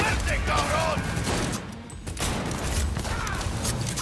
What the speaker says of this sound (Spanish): Bueno, chingados, están disparando.